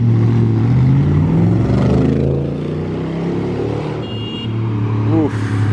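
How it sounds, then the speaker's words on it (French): A yellow Secobra supercar accelerates hard on a street in Monaco, its loud, rising engine roar filling the scene while other engine noise carries faintly in the background. "Ouf, l'accélération de la Secobra,"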